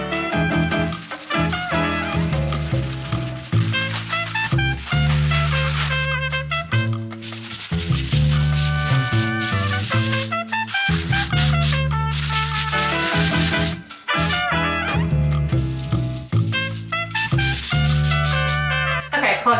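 A magic eraser being scrubbed over a surface during household cleaning, with continuous close rubbing and squeaking in quick back-and-forth strokes, heard alongside a steady melodic music bed.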